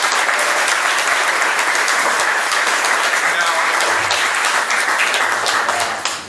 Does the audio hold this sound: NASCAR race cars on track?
no